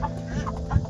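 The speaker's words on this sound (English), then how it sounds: "There's the rooster." Chickens and a rooster cluck close by in a coop for very tall chicken breeds, with repeated soft clucks and short calls overlapping throughout.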